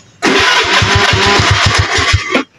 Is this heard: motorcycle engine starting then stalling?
yes